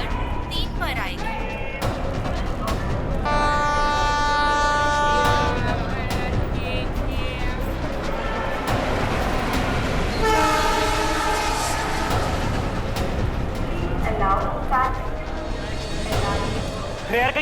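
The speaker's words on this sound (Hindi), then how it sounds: "मुंबई से दिल्ली जाने वाली पश्चिम एक्सप्रेस प्लेटफॉर्म नंबर 3 पर आएगी।" The Paschim Express, a Mumbai-to-Delhi train, pulls into platform 3 of a station with a steady loud rumble and long tonal horn blasts, while voices and announcements carry over the busy platform.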